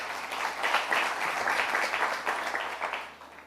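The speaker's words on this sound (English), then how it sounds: "Please, let's give her a round of applause." Round of applause from a summit audience at a leadership and ethics conference, a thick continuous clapping that swells briefly and then tapers off near the end.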